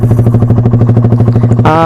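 A Suzuki X4 motorcycle engine with stock cams, a stock coil, a 28mm carburetor and a PowerMax exhaust, running steadily nearby with an even, pulsing firing rhythm, loud and without talk, and a brief shift in tone at the very end.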